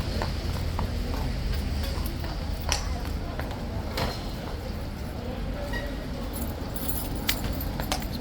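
Hooves of a King's Guard horse clip-clop irregularly on hard ground outdoors, mixed with metallic jingles of tack and a busy crowd murmur.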